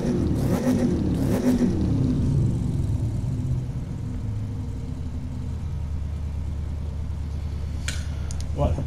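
A 1967 Shelby GT500 engine in the racing game The Crew 2 revs up and settles into a deep, steady idle rumble, loud and close, with a voice talking over it at times.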